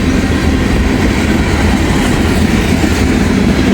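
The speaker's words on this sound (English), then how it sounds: "There's an old Amtrak boxcar coming down." A freight train including an old Amtrak boxcar rolls past close by, a loud steady rumble of wheels and cars with faint rhythmic clatter and no talk.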